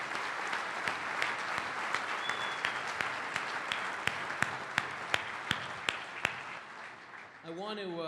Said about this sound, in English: how about a round of applause to those who make all of this possible?